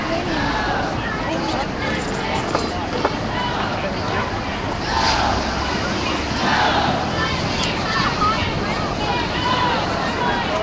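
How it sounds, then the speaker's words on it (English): A large, enthusiastic crowd at an outdoor climate rally in the Bay Area, a steady wash of massed voices and shouting with louder swells of cheering partway through, heard from within the gathering. "Looks like a pretty enthusiastic crowd."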